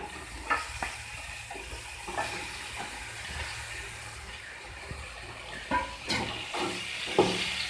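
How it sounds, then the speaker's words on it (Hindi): Finely chopped potatoes sizzle as they drop into a hot pan for aloo tamatar sabji, a steady frying hiss broken by a few scraping stirs and clinks, close and moderately quiet with no talking. "अब हम इसमें अपनी आलू है बारीक कटे हुए वो डाल देंगे।"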